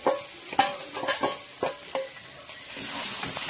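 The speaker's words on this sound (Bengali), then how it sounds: "এবারে ভেজে রাখা বেগুনগুলো এর মধ্যে মিশিয়ে দিচ্ছি, দিয়ে একটু ভেজে নেব।" Fenugreek greens and previously fried eggplant sizzle in a pan, a steady close frying hiss broken by sharp scraping clicks of a spatula stirring at irregular intervals, with no talking.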